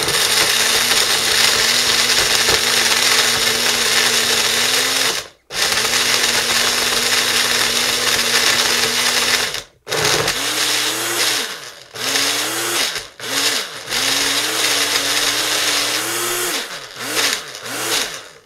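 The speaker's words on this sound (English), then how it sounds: "we're going to start blending" A blender whirs loudly and continuously while making fufu, stopping briefly twice, then running in short pulsing bursts with changing pitch near the end.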